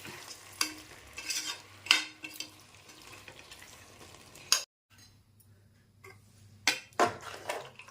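Meat curry is sautéed and stirred in a pot: bursts of sizzling and spoon scrapes with clinks against the metal, with a short quiet pause midway before the stirring resumes.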